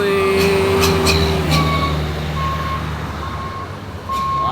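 Heavy Hino truck crawling slowly uphill under a load on a winding mountain road, a steady low engine drone with a reversing-style beep repeating intermittently; a brief voice is heard early on.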